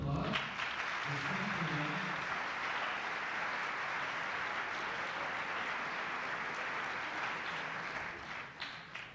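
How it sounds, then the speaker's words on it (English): A school band's winter concert audience claps steadily, a dense, even wash of applause lasting about nine seconds and tapering slightly near the end, with a faint voice or instrument tone underneath at the start. "Please give them another round of applause."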